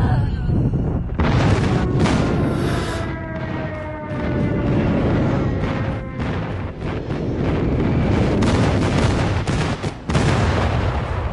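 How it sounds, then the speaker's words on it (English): Friendly airstrike explosions and gunfire in Call of Duty Mobile, a loud, dense barrage of booming blasts and rattling shots that rolls on almost continuously, with brief dips in intensity. "Friendly airstrike incoming."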